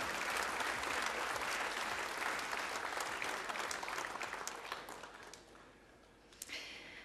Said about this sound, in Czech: zatleskáme předávajícím